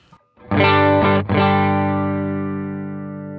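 A distorted electric guitar through a Line 6 Helix amp model with the drive cranked rings out a strummed chord, briefly choked and struck again, then left to sustain and slowly fade, loud and alone.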